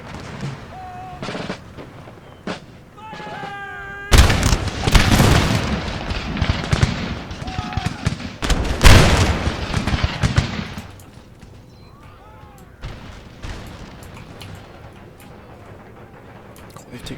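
Musket volleys and artillery fire in an Empire: Total War battle ring out as sharp bursts and heavy booms, with dense rolling fusillades swelling in the middle before thinning to scattered shots and distant rumble.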